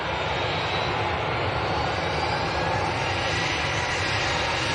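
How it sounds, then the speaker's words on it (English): Ryanair Boeing 737-800 taking off from Manchester Airport, a loud, steady jet engine roar filling the whole stretch at close range. "Ryanair next to go, 737-800."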